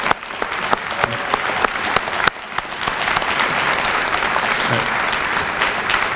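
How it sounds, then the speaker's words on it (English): Crowd at a 2022 athletic Hall of Fame induction applauds the six new inductees, dense sustained clapping with a few sharp individual claps standing out early, holding strong throughout. "One more round of applause."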